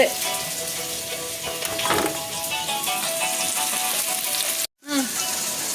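Food sizzles steadily in a hot pan while being sautéed and stirred for a tomato biryani, a dense crackle that drops out briefly near the end and then resumes, with faint voices in the background.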